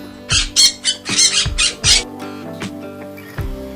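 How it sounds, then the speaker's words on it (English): A parrot lets out a series of loud, harsh squawks, about five bursts in quick succession, then quieter calls trail off over a low steady background tone. "This one is the parrot."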